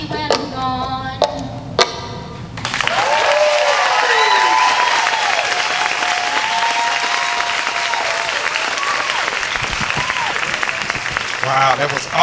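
Audience applause after a song at a community singing event, a sustained round of clapping with some cheers that starts right as the singing ends and continues steadily, with a voice coming in near the end.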